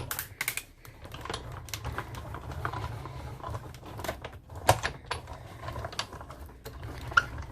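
A die-cutting machine feeds a card through its rollers with a soft continuous mechanical whir, ticking clicks and ratchet-like rattles, close and fairly quiet, with a couple of sharper clacks along the way.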